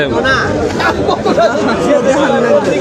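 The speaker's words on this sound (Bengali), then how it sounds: "কি পরিমাণ ভিড়।" Loud, dense crowd chatter fills a packed Eid sacrificial cattle market on a school field in Konra, a constant babble of many voices close around.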